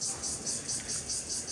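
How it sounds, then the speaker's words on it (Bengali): A cricket chirps in steady, rapid pulsed trills, close and fairly clear against quiet background noise. "দেখো ঝিঝি পোকার ডাক এদিকে,"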